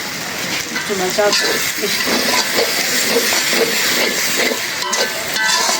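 Spiced masala being fried dry in a pan for a chicken curry with ripe tomato and potato, a steady hissing sizzle with scraping stirs, and a voice talking over it.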